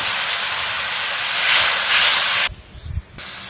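A little water poured into a kadhai of hot spices fried in oil with garlic, for arbi leaf saag, giving a loud, steady steamy sizzle that swells and then cuts off abruptly, leaving faint crackles.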